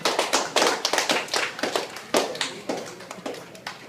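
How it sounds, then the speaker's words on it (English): Several camp counselors in a meeting room applaud, sharp irregular claps coming close and loud at first and then thinning into scattered hand slaps, with no talking over them. "you can give yourself a round of applause for even being selected."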